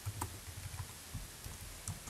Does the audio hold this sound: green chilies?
no